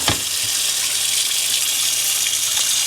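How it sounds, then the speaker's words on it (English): Water gushes steadily from a pot filler faucet into a cooking pot being filled for a tomato ketchup canning batch, a continuous close hiss and splash with no talking. "fill it up and get the water boiling."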